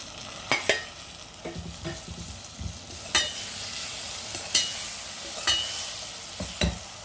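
Chopped tomatoes go into a hot pan of spiced oil for a Sindhi potato curry. Frying hisses steadily underneath, while a spatula scrapes and clacks against the pan in sharp bursts at irregular intervals, with no talking.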